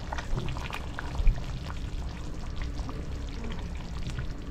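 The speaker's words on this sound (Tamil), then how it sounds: "இப்போ நம்ம மீன் போட்டுக்கலாம்." Fish pieces go into a simmering Chettinad fish curry, making a soft splash and a steady bubbling, sizzling sound with one brief louder knock.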